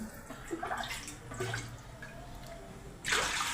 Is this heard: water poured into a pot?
yes